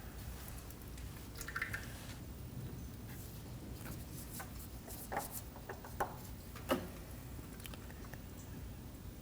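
Engine oil draining from a removed oil filter on a Ford Transit Connect into a drain bucket, with faint steady trickling and a few distinct drips and light taps, close and with no talking.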